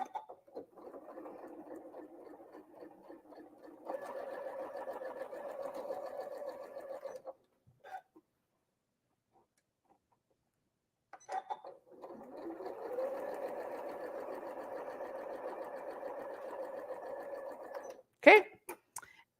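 A sewing machine stitches quilt triangles in two steady runs, a pause of near silence between them, with brief handling clicks and a sharp snap near the end.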